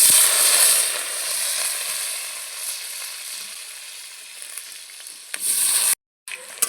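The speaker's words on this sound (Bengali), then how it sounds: "এখন আমি আলুগুলো ভেজে নেব।" Potatoes sizzle in hot oil in a home kitchen, a loud hissing fry that eases slightly, then swells with a brief stir before a short silent gap near the end.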